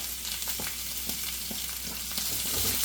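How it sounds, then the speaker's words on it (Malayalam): Okra with curry leaves and salt sautés in a pan for a Kerala-style curry, a steady sizzle broken by rhythmic stirring scrapes about every half second, close and without voices. "ഈ വെണ്ടക്കായ നമുക്ക് നന്നായിട്ടൊന്ന് വഴറ്റിയെടുക്കണം"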